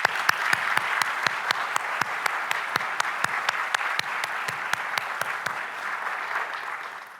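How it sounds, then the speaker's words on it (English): An audience at a university awards ceremony applauds committee members, a sustained round of clapping from a crowd with a few sharp claps standing out, steady throughout and fading slightly at the end. "let's give these committee members a round of applause"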